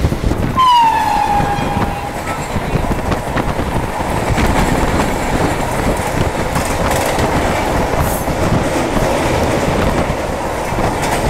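The Sealdah–Agartala Kanchanjungha Express runs on the rails with a continuous loud rumble and rhythmic clickety-clack, a brief tonal whine sounding at the start.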